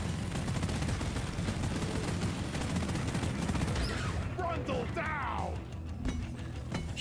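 Dense rapid gunfire from the cooperative mining shooter Deep Rock Galactic, a sustained loud fusillade filling the first several seconds, then tapering as creature screeches and game music carry on, with a voice briefly talking.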